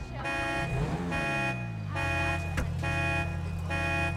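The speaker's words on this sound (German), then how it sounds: "So, noch ein bisschen Alarmanlage laufen lassen." A car alarm on a red car in Grand Theft Auto V cycles through its pattern: a descending whoop followed by repeated pulsing tones, loud and close, with no voices.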